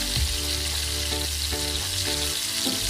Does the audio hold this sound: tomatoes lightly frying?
yes